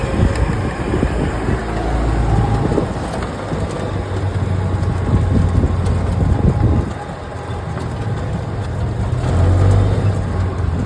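A car is driven slowly, its engine humming and rising under steady road and tyre noise. The sound dips briefly partway through, then builds again.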